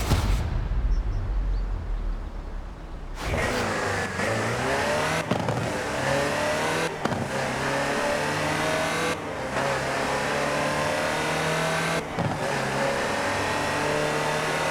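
A Land Rover Type 3 utility vehicle's engine drives in Forza Horizon 4. It pulls steadily, with the pitch climbing through each gear and short dips at the shifts. The engine is loud and close, with no voices.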